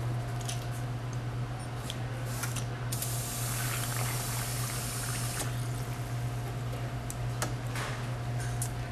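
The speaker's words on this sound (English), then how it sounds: "Watch how fast and accurate anybody can pour a Captain and Coke with a Touch and Pour Cocktail Tower." A Touch and Pour Cocktail Tower dispensing a Captain and Coke at a bar, a steady liquid pour with hiss and spray running continuously under a constant low hum and occasional small clicks, no talking.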